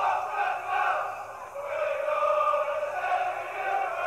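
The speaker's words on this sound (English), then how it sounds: "fans are cheering him on straight away" Football fans in a stadium at a Leeds United versus Southend friendly keep up a steady roar of cheering and chanting, a broad sustained crowd noise that swells and dips slightly.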